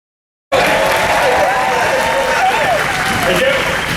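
An outdoor crowd at the Indiana Jones Epic Stunt Spectacular on a rainy day bursts into loud, sustained applause that starts abruptly and holds steady, with voices and cheers mixed into the clapping.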